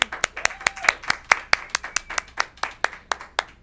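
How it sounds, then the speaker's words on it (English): A small audience claps steadily for a band on a Thanksgiving TV show, about fifteen distinct, fairly close hand claps in an even rhythm, with no speech over them. "Let's give them a round of applause, please."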